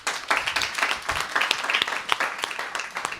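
Lively audience clapping at an International Day of Peace celebration, rapid overlapping hand claps forming an uneven, close burst that continues for a few seconds.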